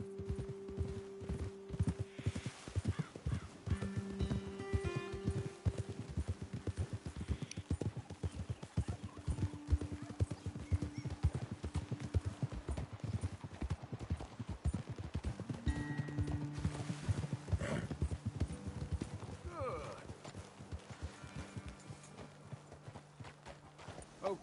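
Horses ridden at a steady walk in the video game Red Dead Redemption 2, with continuous rhythmic hoof clip-clop at close range, occasional snorts, and faint ambient tones underneath.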